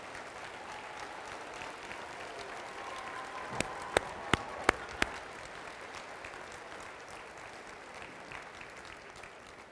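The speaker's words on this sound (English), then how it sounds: "give yourselves a round of applause" Soft, distant applause from a large crowd of accepted students at a university welcome day, a steady diffuse patter broken by a few sharp, close claps midway.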